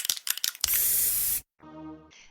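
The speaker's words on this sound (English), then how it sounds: "Today we spray." Krylon Fusion spray paint can spraying, preceded by a few sharp rattling clicks of the shaken can, then a steady loud hiss of under a second that stops abruptly, followed by a brief tonal hum.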